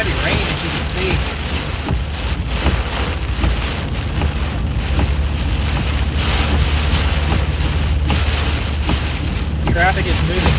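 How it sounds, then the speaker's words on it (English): Heavy storm rain lashes a car on the I-74 highway in Illinois during strong winds, a loud continuous hiss and patter mixed with wind buffeting and road rumble, with occasional faint speech beneath. "Lots of heavy rain, as you can see."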